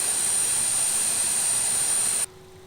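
Steady, loud whine of an MD-80 right jet engine revving up in the X-Plane flight simulator, a high tonal hum over broadband roar that cuts off abruptly near the end, leaving a low faint hum.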